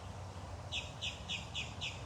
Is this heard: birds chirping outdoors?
yes